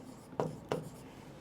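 Two short scratchy strokes of writing, a pen or marker working through a math solution on a board or paper, close and moderately loud, with quiet between them and no talk.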